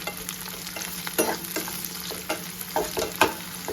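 Dried fish cooks in a pan under a steady sizzle, broken by repeated scraping stir strokes and spoon knocks close by, no voices.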